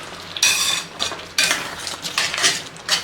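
A spoon stirs a thick dahi chole chickpea curry in a pot, making several loud, close scraping and clinking strokes against the metal.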